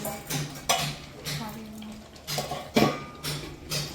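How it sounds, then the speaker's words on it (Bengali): A spoon stirs and scrapes through chicken curry with capsicum in a cooking pot, making repeated clattering metal knocks and scrapes at an uneven rhythm against a faint sizzle. "ব্যাস, এখন নাড়াবো।"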